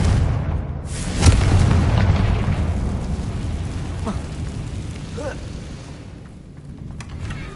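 A Confringo fire spell bursts in Hogwarts Legacy with a loud booming blast that rolls into a long crackling, rain-like rumble fading over several seconds, while a voice speaks over it.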